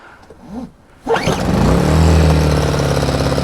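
An 850 W inverter generator's small engine catches after a brief pull, then settles into a loud, steady running drone close by with no talk.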